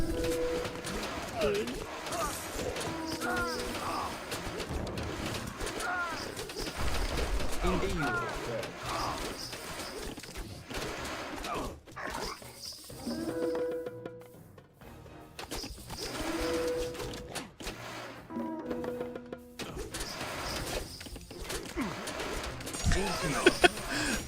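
Soft repeated pigeon-like cooing from birds in the strategy game Age of Mythology, scattered through a busy mix of game sounds and music, with a person talking over much of it.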